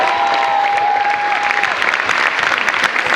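An audience at a dance performance claps loudly and continuously in a dense, even burst of applause, with a brief tonal whistle-like sound over the first half.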